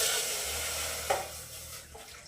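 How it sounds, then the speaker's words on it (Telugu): Packet milk is poured into a pot set on a lit stove, a soft steady liquid pour over a low background hum, with a faint clink partway through. "ఇలా పాలు పోసేసుకోవాలి."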